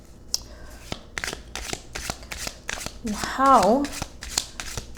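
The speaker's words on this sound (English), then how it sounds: "I'm going to shuffle 3 times." Tarot cards shuffled by hand in a run of crisp riffling bursts, close and fairly loud, with a person speaking briefly partway through.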